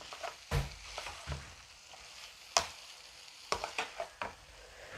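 A homemade sausage mixture frying in a pan is stirred, with scattered scraping knocks and clicks over a soft, steady sizzle, quiet and close.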